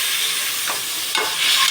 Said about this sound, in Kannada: ಈ ಥರ ಸ್ವಲ್ಪ ಫ್ರೈ ಮಾಡಿ. ಈರುಳ್ಳಿ ಹಾಕಿದ್ದೀನಿ, ಮಟನ್ ಹಾಕಿದ್ದೀನಿ.